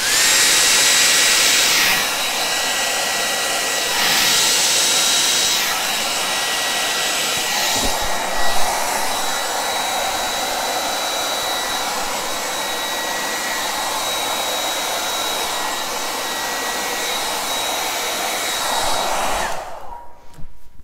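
A hair dryer blows steadily across a Dutch-style acrylic paint pour, a loud continuous whir with slight shifts in pitch as it is moved around, cutting off abruptly near the end.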